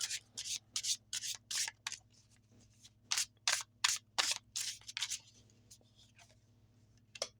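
Tarot cards being handled and shuffled, close, crisp papery swishes and slides in quick bursts with brief pauses, over a low steady hum, no talking.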